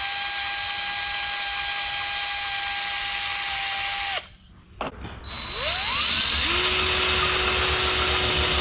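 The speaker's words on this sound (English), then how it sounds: "I need to first drill it out to 5/8." Loud, steady whine of a power drill boring out a steel pipe to 5/8 inch. It stops briefly, then spins back up to a high, sustained pitch.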